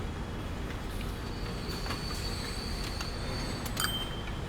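A train in the Transport Fever video game rumbles along steadily, with faint wheel squeals and a few brief metallic clicks over the continuous low rolling noise, and no talking.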